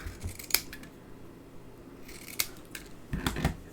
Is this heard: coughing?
no